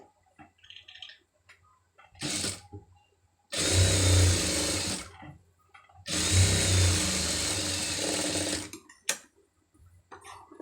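A sewing machine stitches a sleeve design in two long, loud, whirring runs, with a brief burst before them and short ticking stops between.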